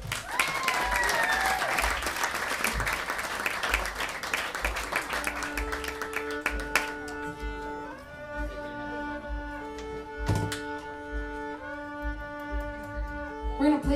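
Loud crowd applause and cheering at a SXSW day party fills the space, then fades as sustained electric guitar notes and drums begin playing underneath.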